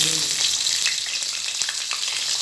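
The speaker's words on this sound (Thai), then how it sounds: "ทอดปลาทู" Mackerel sizzles and crackles in hot oil in a pan, a steady bright frying hiss with occasional pops, close by and without talk.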